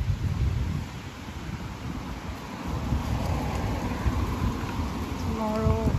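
Steady roar of strong wind with rain-like noise throughout, loud and continuous, with a faint voice near the end.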